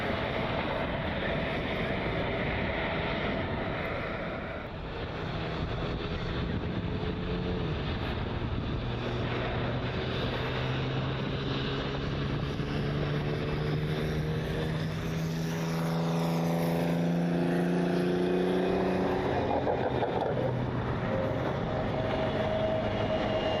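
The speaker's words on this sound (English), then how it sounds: "United 737 down there rolling for departure." A United Boeing 737 airliner rolling for departure at Cleveland Hopkins International, a long steady jet engine roar from a distance with rising and falling whine tones as the engines spool, no talk.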